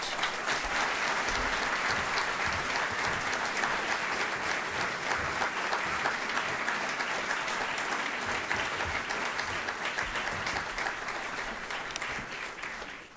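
Sustained audience applause in a library lecture hall welcoming guest speaker Ari Fleischer, a dense, even clapping that holds steady for the whole stretch before tapering off at the end.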